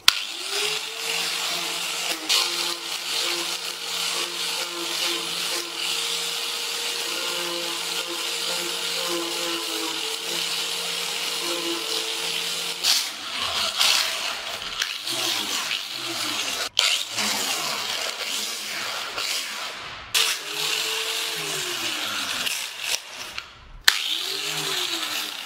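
A power sander with sanding discs whirs continuously on Yamaha WR125R motorcycle parts, its motor pitch shifting as it presses on and off the surface, with short pauses between passes.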